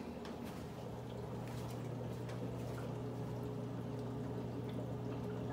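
Water streams steadily from a hose during a water change on a cichlid aquarium, a continuous even rush with a low hum underneath and no pauses.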